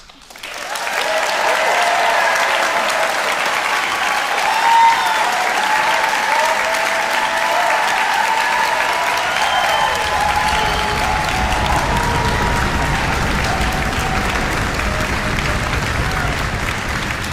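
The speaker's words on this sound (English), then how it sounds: "You're going to get to applaud again later, so save some." Sustained applause from a large graduation audience at the Royal Conservatoire of Scotland's summer ceremony, a dense, steady wash of clapping lasting the whole stretch with a faint crowd murmur.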